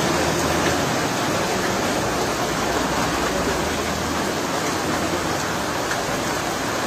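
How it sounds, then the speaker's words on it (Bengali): Heavy evening downpour at a road junction signal, a dense, loud, unbroken roar of rain hitting surfaces all around, steady from start to finish. "মুষলধারে বৃষ্টি নেমেছে।"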